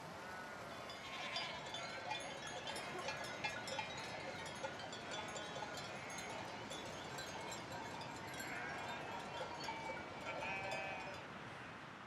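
A flock of sheep and goats moves along an open mountain path, with cowbells clinking and scattered bleats over a dense, steady bed of hooves and movement, fairly faint and distant.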